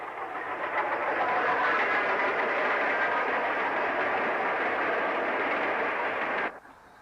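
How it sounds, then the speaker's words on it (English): A Fairburn 2-6-4 tank steam locomotive, number 42133, hauling a local passenger service near Stockport, rumbles past close by with steady rolling wheel noise and clatter for several seconds before cutting off abruptly. "Coming south from Manchester Central to cross the CLC line is Fairburn 264 Tank 42133 on a local service to Cheadle Heath"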